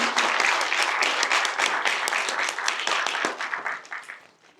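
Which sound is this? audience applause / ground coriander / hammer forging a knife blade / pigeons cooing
audience applause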